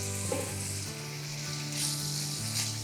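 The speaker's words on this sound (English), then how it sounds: "Sizzling is good." Steady, loud sizzling of food frying in a pan, continuous hiss with faint clinks, no talking.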